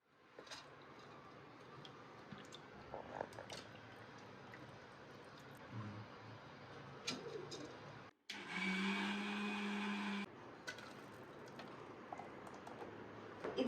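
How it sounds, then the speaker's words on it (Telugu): A mixer grinder grinds soaked lentils into batter, with a loud steady whirring burst of about two seconds following clattering and handling noises in a kitchen. "ఇప్పుడు దీన్ని మనం మిక్సీ పెట్టేస్తాము."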